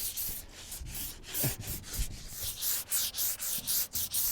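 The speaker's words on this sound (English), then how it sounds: "I'm just gonna get a little bit of sandpaper and go along the body lines there where the paint would be really thinning out at the top" Sandpaper rubs over old paint on a truck's body lines in quick, rhythmic scrubbing strokes, close and fairly quiet with no talking.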